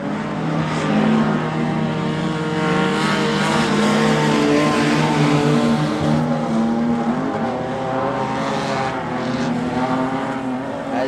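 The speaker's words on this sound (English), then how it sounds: "Josh McAlpine makes his way around the red dirt circuit down the main straightaway as well, putting in a red hot effort on his loud pedal." Race cars circling a red dirt circuit at a Kalgoorlie vs Esperance event, engines roaring loudly at full throttle with rising and falling revving pitch as cars pass along the main straight.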